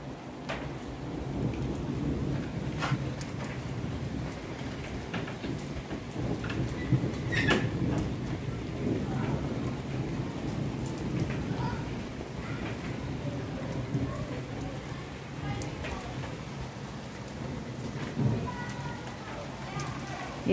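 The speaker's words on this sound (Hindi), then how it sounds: "बाहर बारिश आ रही है।" Steady rain pours outside with low rumbling underneath and occasional sharper drips or knocks, continuous throughout.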